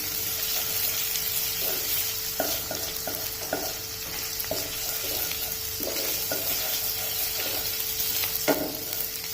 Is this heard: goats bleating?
no